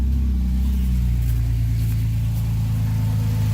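A Toyota Tacoma engine starts and runs at a loud, steady idle, a deep continuous rumble close by with no voices.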